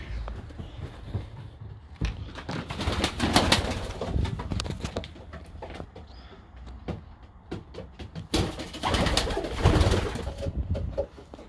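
Pigeons coo repeatedly at a loft during training, soft rolling calls with some rustling and a few knocks, moderately close and without talk.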